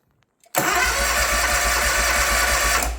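A Hustler Surfer Pro mower engine catches suddenly after a moment of near silence and runs on steadily at a loud, even idle with a low throbbing note.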